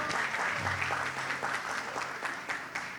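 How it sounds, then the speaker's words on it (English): Audience applause at a school annual day event, a steady, full round of clapping from a crowd, fairly close and even in level across the whole stretch. "Give them a big round of applause"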